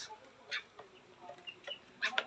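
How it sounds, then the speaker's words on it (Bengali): A large rooster nearby gives soft, scattered clucks and short throaty calls, faint and intermittent against a quiet background. "এই যে দেখেন এটি হলো আমার রাজা মুরগি মুরগা মুরগা"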